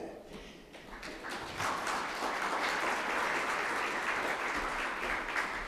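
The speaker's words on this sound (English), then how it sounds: "I'd like to have a warm applause for her." Warm applause from a conference audience at a plenary session on fiscal policy and health financing, starting sparse and quickly swelling into sustained, fairly soft clapping from a large hall.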